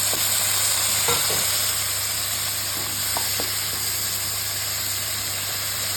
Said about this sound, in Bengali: এই যে করলা আর আলুটা কেটে নিয়েছি, এটা দিয়ে দিচ্ছি এর মধ্যে